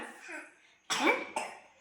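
A child coughs while drinking: two sharp, close coughs come after a stretch of soft, low vocal sounds.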